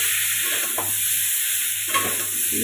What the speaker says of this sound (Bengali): আলুগুলো সেদ্ধ করেছিলাম অল্প সেটা ভেজে নিলাম